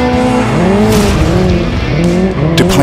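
A Hyundai IONIQ 5N drifts with hydraulic side brakes fitted, its tires squealing in long wavering howls that rise and fall continuously, loud and close.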